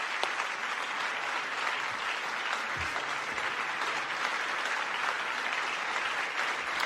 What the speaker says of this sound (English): And there's clapping and clapping and clapping.